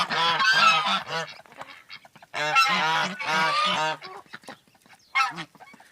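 Several geese honk loudly and close by in a village yard in western Ukraine in freezing winter, in bursts of harsh, nasal calls, with short pauses between outbursts.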